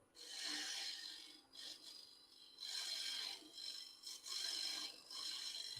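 On a wood lathe, a turning tool cuts a tenon recess in spinning wood, giving bursts of harsh, scraping hiss as the tool is pushed back and forth, with brief quieter gaps between passes and no speech.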